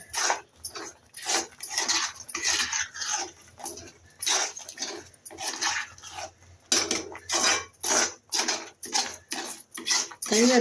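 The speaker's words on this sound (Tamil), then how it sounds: "அப்படியே நல்லா கிண்டி விட்டுக்கிட்டே இருங்க அப்படியே சுண்டி எண்ணெய் கக்கி வரணுங்க நல்லா கிண்டுங்க" A spoon scrapes and clatters steadily against a metal pan while green chili thokku is stirred, producing rapid, close, continuous rhythmic scraping with no pauses.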